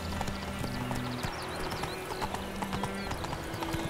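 Horse hooves clip-clop in The Witcher 3 game, a steady walking rhythm of hoof strikes under game music, with faint ambient sounds and no voices.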